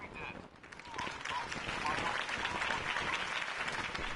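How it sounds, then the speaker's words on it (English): Crowd applause from the Batman Telltale video game at a Harvey Dent campaign rally, a dense wash of clapping and cheering rising after a brief quieter start and staying steady. "If only Mr. Wayne, my campaign's largest backer, could have heard that applause"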